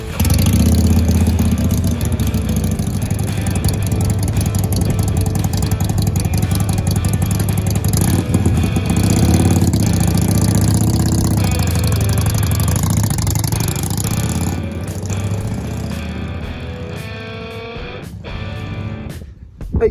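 A Harley-Davidson Ironhead 883 twin-cylinder motorcycle engine idles loudly and steadily up close with a deep lumpy rumble and mechanical clatter, easing slightly toward the end.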